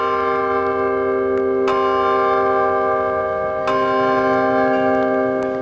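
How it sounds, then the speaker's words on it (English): Carillon of 50 bells, each struck by a clapper pulled sideways by a wire, rings loud, sustained bell tones with a few sharp strikes layered over lingering resonance; no talking. "they pull the clapper to the side of the bell to make the sound"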